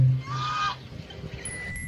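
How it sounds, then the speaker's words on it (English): A duck gives one loud, nasal honking quack up close, which fades into quiet with faint thin high tones after it. "This is duck."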